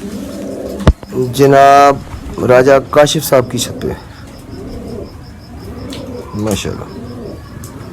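A large dub pigeon on a rooftop coos several times in low, rounded repeated calls, close by, while someone speaks over the start of the clip.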